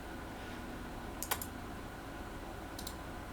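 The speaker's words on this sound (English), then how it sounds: "typing away furiously" A computer keyboard clicks in two short, quiet bursts of typing against a faint room hum.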